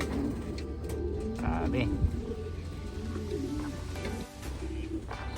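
Domestic pigeons coo in a low, repeated rhythm close by, with a person talking over them in a loft where young birds are being taught to drink.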